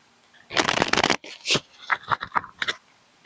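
Tarot cards being shuffled by hand, a dense riffling burst followed by several shorter flicks and snaps, close and fairly loud with no talking.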